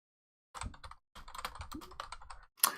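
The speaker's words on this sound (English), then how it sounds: "Who's got the loud keyboard now" Loud clacking of computer keyboard typing in bursts of rapid keystrokes, close and alone, with a short pause in the middle and a sharper clatter at the end.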